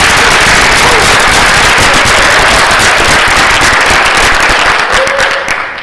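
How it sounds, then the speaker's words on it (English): A crowd at a high school branch ceremony and ribbon cutting claps in loud, dense applause that carries steadily and then fades out at the end. "Can we give him a round of applause?"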